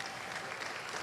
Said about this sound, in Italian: Arriva comunque l'applauso per le proprie ragazze